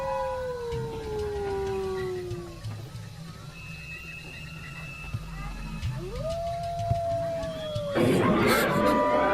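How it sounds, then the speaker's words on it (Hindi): Foxes howling outdoors at night, long wavering cries rising and falling from a distance over a steady noisy background, ending in a harsher burst. "ये जो आवाजें आ रही है वो कुत्तों की है ना? नहीं, लोमड़ी की है।"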